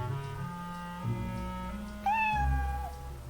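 A cat meows as a sound effect in a Twilight Zone radio drama, a near, clear, drawn-out call with a rising then falling pitch, heard alone over a quiet background.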